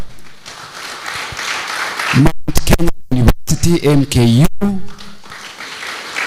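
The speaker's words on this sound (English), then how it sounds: "please a round of applause for each one of them" Applause from an audience at a Kenyan environmental and public health officers' summit fills a steady background wash, while someone speaks loudly over it into a microphone.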